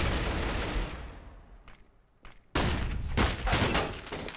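Bursts of AK-47 rifle fire in a Counter-Strike match, a loud cluster of shots at the start, then a quieter gap with a lone crack before a heavy second volley of rapid gunfire.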